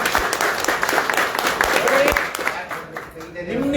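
Applause from a crowd at a KRS party general members' meeting in Tumakuru, a burst of clapping that fades out, mixed with someone speaking over it.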